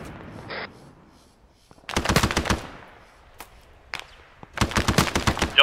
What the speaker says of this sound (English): Y'all see where we're shooting rounds at